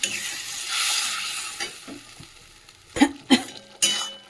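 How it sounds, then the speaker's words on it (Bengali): Fish curry gravy bubbling and sizzling in a pan, a steady frying hiss with a few sharp stirring clatters near the end, close and fairly loud. "ঝোলটা তো ফুটে গেছে"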